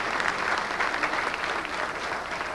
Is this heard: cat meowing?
no